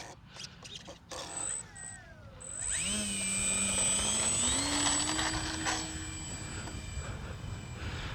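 An Arrows RC Trekker model plane takes off into the wind, its electric motor whining up in pitch and holding a loud steady buzz for several seconds before easing off as it climbs away.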